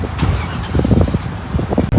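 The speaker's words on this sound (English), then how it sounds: "we're gonna fire up the Avalanche, hook it back to the trailer" A Chevrolet Avalanche pickup, towing a trailer on a rural roadside by a cornfield, cranks and starts up close, with a rough, sputtering engine churning loudly for two seconds.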